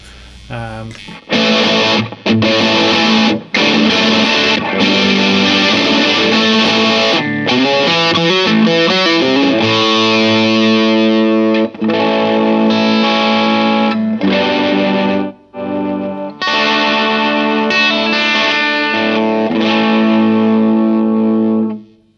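Heavily distorted electric guitar through a DIY compact pedalboard, distortion set high, playing hard rock chords and riffs, loud and sustained with brief pauses between phrases.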